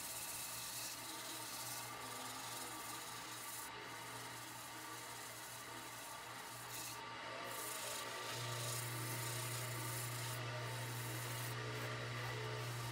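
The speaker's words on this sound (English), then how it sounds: "I've applied a coat of homemade sanding paste. So we're going to polish it off." Steady, continuous rubbing of a cloth or pad polishing homemade sanding paste across a wooden vessel, a soft rasping scrub that keeps going throughout.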